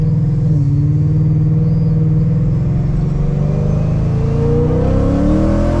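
A 700 whp Ford Mustang is driving on a morning run while its engine revs. A loud, close exhaust drones steadily, and its pitch climbs smoothly and then rises again toward the end.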